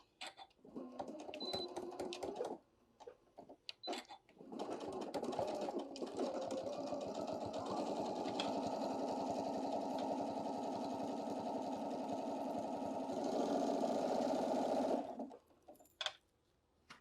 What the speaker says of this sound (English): we're going to sew 1/4 inch all the way around.